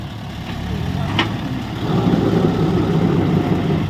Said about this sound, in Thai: คันนี้แทบไม่ได้เร่งเครื่องเลย